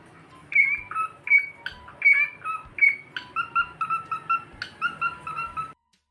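Ford, a pet bird, sings a lively run of repeated whistled chirps and trills, clear and close, in quick bursts for several seconds before stopping abruptly.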